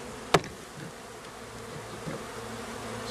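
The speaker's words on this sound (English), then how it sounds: "I'll bonk these bees down and get them knocked to the bottom of the cage" A low, continuous buzz of many honeybees in a package cage hums close by, with a single sharp knock early on as the cage is bumped, and faint rustling.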